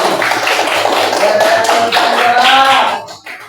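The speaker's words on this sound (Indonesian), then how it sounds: "Yuk tepuk tangan untuk Ismail." A group claps together in a steady burst of applause for a few seconds, close and loud, then it fades out.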